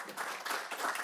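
A crowd claps at a health forum, brief steady applause of many hands filling the room at moderate volume.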